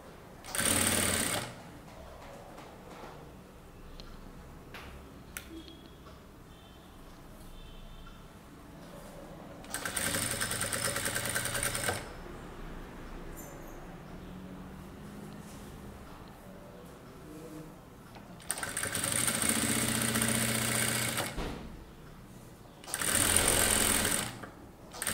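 A sewing machine runs in four separate bursts, stitching piping along a neckline edge, with quiet pauses between runs and fabric handling in the gaps.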